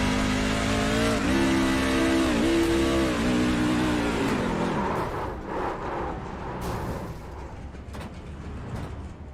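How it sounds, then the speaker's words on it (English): A race truck's engine at Dover screams at redline from inside the cab after a wrong gear is selected, whining and wavering loudly before dropping to a rougher, lower roar. "it seems like he grabbed a gear that he shouldn't have grabbed because the truck redlined immediately"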